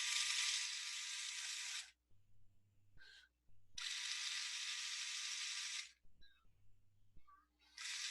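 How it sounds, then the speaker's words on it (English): A small electric motor driven by an Arduino motor controller whirs with a bright, hissing buzz in bursts of about two seconds, separated by quieter gaps with a low hum. "So I see the left motor is turning, and nothing's happening on the right side yet."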